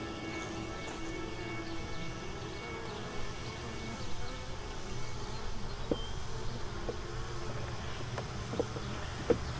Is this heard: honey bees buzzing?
yes